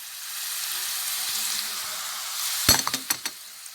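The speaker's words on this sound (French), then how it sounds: "في المقله ديالي شويه عافيه. غنزيد عليه الثومه." Garlic drops into a hot frying pan with a little oil, a soft steady sizzle followed by a sharp clatter of utensil strikes and clinks near the end.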